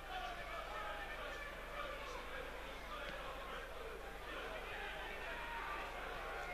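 Football crowd at Brentford's ground in 1991 cheering and chanting to urge the home side on, a steady distant roar of massed voices under a commentator's voice.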